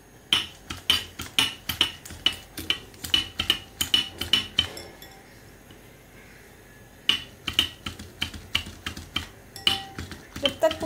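A spoon beats yogurt in a bowl with quick, regular clicking taps against the side, a brisk rhythmic series that pauses for about two seconds before resuming at the same pace.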